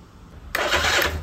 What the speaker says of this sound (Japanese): それで菊ちゃんもう一回セル回して